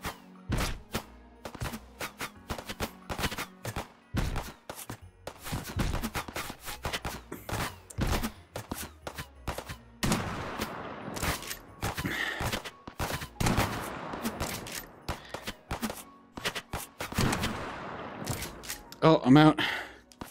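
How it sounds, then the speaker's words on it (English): Shotgun blasts in Hot Dogs, Horseshoes & Hand Grenades VR, a series of sharp, punchy shots spaced irregularly, with mechanical handling clicks between them and someone talking over parts. "It is a shotgun though, so all you need to do is just aim and shoot."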